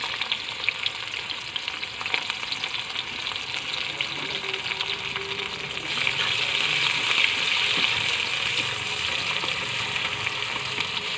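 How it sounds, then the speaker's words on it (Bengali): Onions for birista frying in hot oil, a steady close sizzle with bubbling that grows louder and brighter partway through, with no talking. "আমি পেঁয়াজ বেরেস্তা কিছুটা পেঁয়াজটা করে নিলাম, দিয়ে দিলাম তেলে।"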